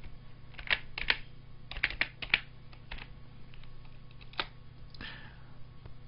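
Quick, faint key clicks on a computer keyboard come in short bursts as a name is typed, spaced out with brief pauses over a quiet background hum.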